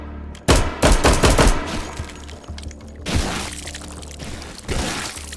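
Rapid bursts of gunfire ring out in the VR shooter H3VR, with a loud cluster of shots near the start, then scattered sharp reports and debris-like clatter.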